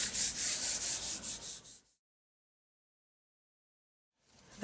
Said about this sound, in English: just rub it lightly with your hands